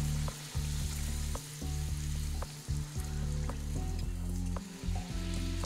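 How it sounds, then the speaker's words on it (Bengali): Luchi sizzle in hot oil, a loud, close frying crackle that swells and dips as pieces go in and get turned, with tonal music in the background. "তো লুচিগুলো এরকমভাবে সব ভেজে নেব।"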